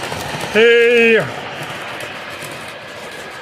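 A Menards Union Pacific HO-scale model train engine sounds a loud, steady multi-tone horn for roughly half a second, with faint room noise and a voice speaking over it.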